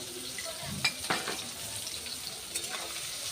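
Food sizzles and fries in a pan with salt and turmeric added, soft continuous crackle with a few scraping stirs and clinks of a utensil, fairly quiet.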